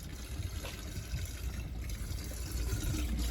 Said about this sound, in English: hose pipe on, filling up the tank